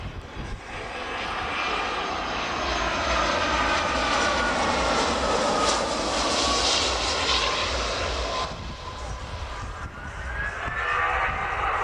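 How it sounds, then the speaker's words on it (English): A Royal New Zealand Air Force Boeing 757-200 jet roars loudly through a low approach and go-around at an air show, a continuous heavy engine rumble with a shifting whine as it passes and climbs away. "Aircraft descending down to about 30 feet before doing the full go around with a pitch up of 45 degrees and then climbing away."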